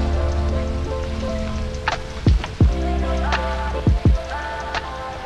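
Steady rain falls during a cold, wet mountain bike ride on the Great Divide route, a constant close hiss with a low hum underneath and a few sharp knocks.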